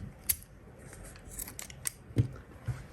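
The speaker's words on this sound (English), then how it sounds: "Okay, now I'm just gonna cut the yarn." Scissors snipping crochet yarn close by, several quiet metallic clicks and cuts spaced unevenly over a few seconds in a quiet room.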